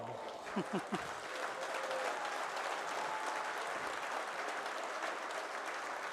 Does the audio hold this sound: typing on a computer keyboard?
no